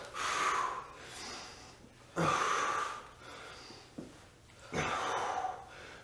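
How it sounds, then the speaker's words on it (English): Three forceful exhalations come at regular intervals during an abs workout, each a breathy rush of air, close to the listener and separated by quieter pauses. "Remember to exhale."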